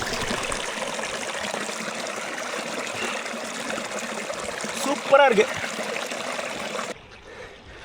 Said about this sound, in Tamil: அப்படியே இந்த ஓடையோட சத்தத்தை கேட்டே ட்ராவல் பண்ணுறது சந்தோஷமான ஒரு அனுபவம்.